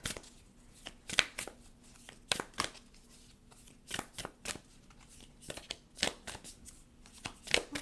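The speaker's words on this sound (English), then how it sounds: "let's get some Moonology cards" Moonology oracle cards being shuffled by hand, with repeated crisp riffling bursts in an irregular rhythm. The sound is close but quiet, with soft handling noises between the bursts.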